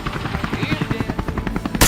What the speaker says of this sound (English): Gunfire erupted in rapid bursts.